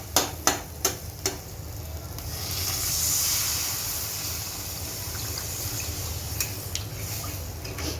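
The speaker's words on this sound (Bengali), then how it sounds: "এখন জল দেবে।" Water added to cooked masala for a fish curry in a pan, starting with a few sharp ticks, then a broad steady hiss of steam that swells and settles into a softer continuous sizzle.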